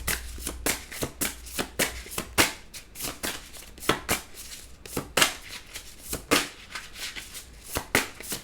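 Tarot cards shuffled by hand in quick, close, crisp riffles that repeat steadily with no pauses, with barely any voice.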